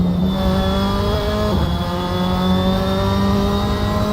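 Formula 4 race cars at Silverstone in the braking zone, engines droning loud and steady with harmonic whine, pitch dipping briefly as they slow, continuous through the clip.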